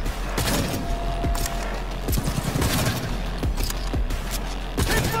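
Sustained gunfire from Cyberpunk 2077 fills the scene: dense, rapid bursts of shots with booming impacts and mechanical clatter, loud and continuous throughout with no clear talk over it.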